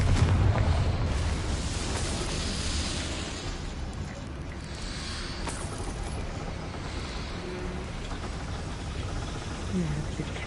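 A Confringo spell explosion in the Hogwarts Legacy video game on PS5 bursts with a loud boom, then a long rumbling roar that slowly fades, with a voice heard at the start.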